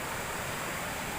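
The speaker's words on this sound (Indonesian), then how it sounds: "Nah ini air terjunnya." A waterfall reached after a jungle hike, heard as a steady, soft broadband rush of falling water, faint and continuous over a short stretch with no voices.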